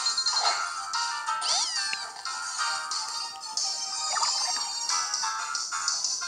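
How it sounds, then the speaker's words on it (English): Alolan Meowth's cry in the game Pokemon Moon, electronic cat-like meowing and caterwauling repeated in bright warbling yowls, loud and close, with tinny game sounds and no talk. "Hey, Alolan Meowth again."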